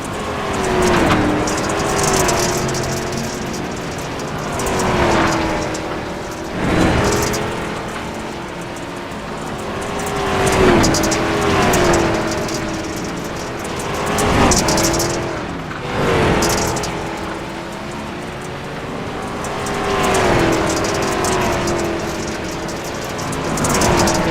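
Racing cars in a SRX race video game drone past with repeated engine surges and fades, rising and falling every few seconds, while clicks and clatters of rocks striking the car sound through the mix.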